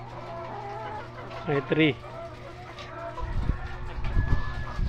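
RTL laying hens, 62 weeks old, cluck softly in a poultry house, with a few louder squawks near the middle. Someone talks throughout and there is some handling noise near the end.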